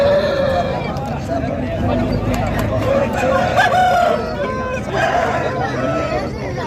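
An Aseel rooster at a busy Saturday rooster market in Mydukur, Kadapa district, crows loudly and repeatedly over constant background chatter and clucking from other birds.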